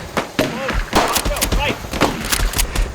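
Rapid bursts of Nerf blaster fire crackle through a forest during a staged skirmish, sharp repeated pops layered with shouting voices close by.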